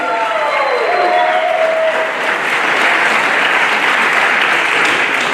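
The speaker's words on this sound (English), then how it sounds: "if you guys could just give them a round of applause for hosting us tonight" Wedding reception guests applaud the couple with loud, continuous clapping from a crowd filling the room, accompanied by scattered cheers and a whistle near the start.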